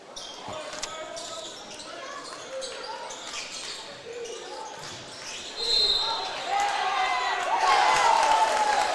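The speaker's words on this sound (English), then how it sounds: "gets a reaction from the crowd" A crowd at a girls' high school basketball game reacts with a rising swell of cheers and clapping, balls bouncing and sneakers moving on the court while an announcer talks over the noise.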